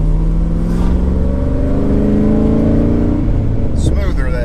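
A Holley Terminator X Max swapped, HI RAM E85 Corvette C6 engine does a pull toward 7500+ RPM, a loud steady drone rising in pitch, then a sharp shift break near the end.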